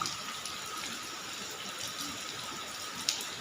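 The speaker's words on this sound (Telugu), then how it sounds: "చూడండి ఫుల్గా వస్తుంది వర్షం అయితే ఇదిగో చూడండి వరద పోతుంది" Floodwater from heavy rain rushes past a house and into the parking area, a steady, moderately faint wash of flowing water with a few small splashes, no speech.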